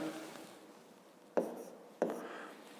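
A pen writes numbers by hand on paper during a fifth-grade maths exercise: soft, close scratching with two sharper taps from the pen. No one speaks.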